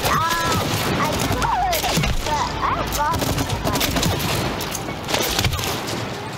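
Rapid bursts of gunfire in the co-op video game It Takes Two as players shoot at wasp nests, dense crackling shots over game effects and whooshing tones, with voices talking.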